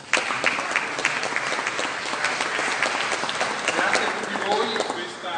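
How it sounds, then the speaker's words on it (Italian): Audience applause fills a concert hall during a San Gregorio concert, dense sustained clapping from many hands at close range, continuous throughout with a slight fade at the end. "Un applauso."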